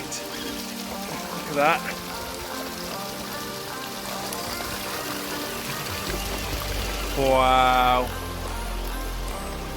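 Rain pours steadily over people outdoors, a continuous wet hiss with voices exclaiming above it and a brief louder surge of noise partway through.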